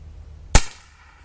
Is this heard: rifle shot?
yes